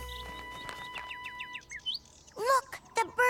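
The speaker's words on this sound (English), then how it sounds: "Look, the birds are coming back." Cartoon birds chirp and tweet in quick bright bursts in a garden scene, with a sustained tone underneath and louder squawking calls near the end.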